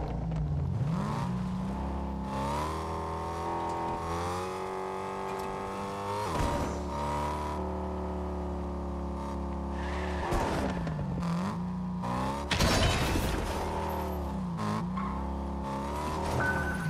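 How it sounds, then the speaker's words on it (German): Fortnite car engine drones steadily with shifting pitch, broken by several loud tire skids and squeals, with no talking. "Hier ist ein Auto."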